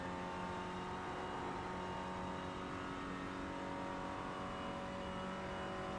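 A race car engine at full throttle in iRacing, a continuous loud mid-pitched roar with steady harmonic drone throughout, no voices, suggesting a car pulling hard down a straight on a foggy Nürburgring morning.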